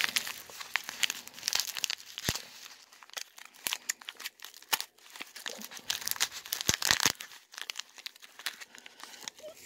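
A foil dip mix packet handled close up, crinkling and crumpling continuously with sharp crackles and small tearing sounds, fairly quiet with no talking.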